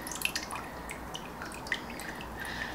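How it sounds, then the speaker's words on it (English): A mix of water and coolant drains from a radiator removed in a bathroom with a tiled floor and a bucket on standby, heard as a faint, steady trickle with a few soft, scattered drips. "that water's coming out really nice and clean. Obviously, it's a mix of coolant and water."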